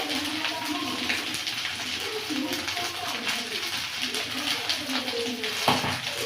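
Water goes into a spice paste of turmeric, chilli, salt and cumin powder for a Bengali masala in a village kitchen, a steady running gush with background chatter and faint birds.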